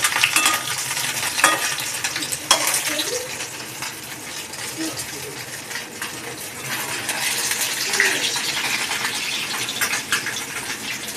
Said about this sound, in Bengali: এখন ডিম ভাজা চলছে